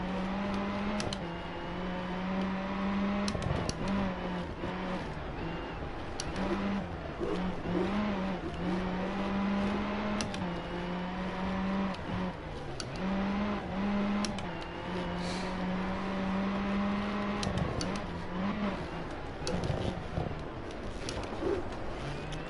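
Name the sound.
rally car driving in video game Sébastien Loeb Rally Evo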